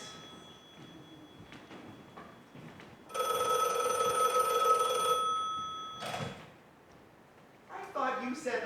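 A telephone rings, a steady electronic tone sounding for about two seconds amid quiet room noise, with people talking before and after it.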